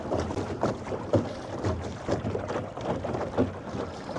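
A small modular three-piece boat glides along under an electric motor while salmon fishing, giving a steady rushing wash of water and wind with soft repeated surges, close and moderately loud, with no voices.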